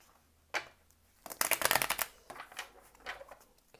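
Tarot cards are shuffled up close for a weekly card draw, with a brief riffle followed by a dense burst of flapping card edges and a few softer shuffles trailing off.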